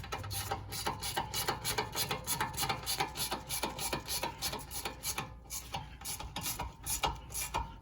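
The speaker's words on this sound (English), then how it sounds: "I'm just using this gear wrench." A ratcheting gear wrench clicks rapidly in repeated bursts while snugging a bolt during a rear brake and rotor replacement on an Infiniti, close and fairly quiet with a brief pause near the end.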